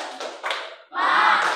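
Classroom audience claps in a short burst, scattered hand claps at first, then a brief pause before a tighter, louder round of clapping joins together.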